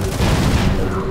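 A grenade goes off during a Shadowgun War Games match, a loud low blast mixed with ongoing gunfire in dense, continuous combat noise.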